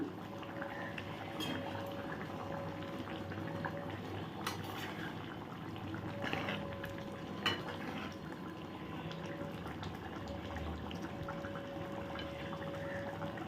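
A spicy rupchanda (pomfret) fish curry simmers in a pot with a soft, continuous bubbling that stays low and close, with a few faint clinks. No talking.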